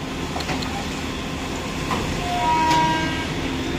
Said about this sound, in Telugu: ఇది వచ్చేసి ట్రైన్ బోగి అండి.